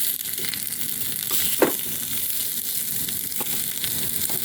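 Dry-ground coconut frying in a pan for a Kerala-style jackfruit erissery curry gives a steady, close sizzle, with a few brief scraping clicks as it is stirred.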